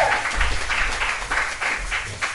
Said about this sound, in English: Let me get a round of applause for the boy